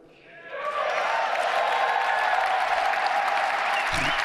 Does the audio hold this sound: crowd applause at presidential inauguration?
yes